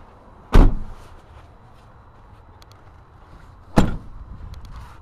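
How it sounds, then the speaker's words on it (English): Rear sliding window on a 2004 Ford F150 Super Cab FX4 pickup being operated, giving two sharp, close knocks or clacks about three seconds apart, with a quiet background in between. "Sliding window in the back."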